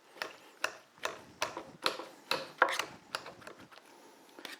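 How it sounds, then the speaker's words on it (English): Boiled potatoes being mashed by hand in a bowl, a series of rhythmic thumping, squishing presses about half a second apart, close and moderately soft, with no voices. "And we continue mixing or mashing."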